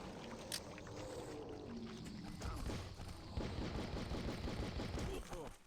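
Enemy gunfire in the Outcast 1.1 video game, a dense run of rapid shots that grows busier and louder partway through, with a voice mixed in.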